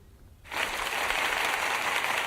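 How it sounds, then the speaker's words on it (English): Audience applause bursts in suddenly after half a second of quiet, then holds as a dense, even wash of clapping. It sounds moderately distant and continues to the end without any voices. "Oh, I get an applause."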